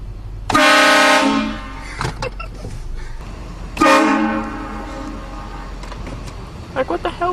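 Two loud, long blasts from a train-style air horn used as a prank, each rich in stacked tones and fading out, separated by short pauses, with bursts of excited voices between and after.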